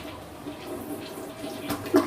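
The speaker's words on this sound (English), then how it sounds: "Toilet, I'm going to flush it, make sure it flushes" A toilet being flushed during a home inspection, a steady rushing gurgle of water swirling and draining nearby, rising slightly toward the end.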